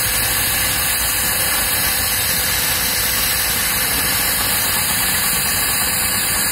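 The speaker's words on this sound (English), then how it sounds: "Right, we'll ask the tractors to make their way out." Steady tractor engines idling and rumbling together in a show ring at the Weeting Rally, a broad continuous mechanical drone with no talk.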